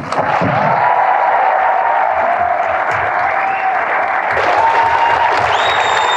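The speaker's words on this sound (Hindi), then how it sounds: "आज आप लोग अपने लिए एक बार तालियां बजाओ यार" A live audience at a motivational talk claps together in a dense, steady burst of applause, loud and close, with a few brief whistles rising over the clapping near the end.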